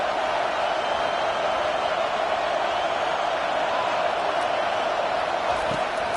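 Football stadium crowd noise during a drive with the offense pinned deep, a constant, loud roar of many voices without letup.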